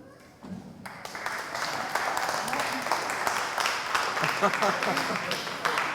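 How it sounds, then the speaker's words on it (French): After a quiet start, a holiday-programme audience bursts into sustained clapping for a youth centre's contestant, with voices and cheers mixed through the applause. "On applaudit, s'il vous plaît, bien fort"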